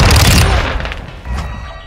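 A flashbang grenade goes off in Call of Duty: Modern Warfare 2, a loud close boom with a crackling burst that decays over about a second, followed by faint gunfire.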